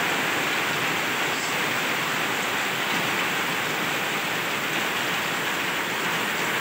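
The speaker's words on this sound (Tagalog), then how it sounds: "Malakas ng ulan." Heavy rain pours down steadily, a dense, continuous hiss that fills the whole scene without a break and with no voices present.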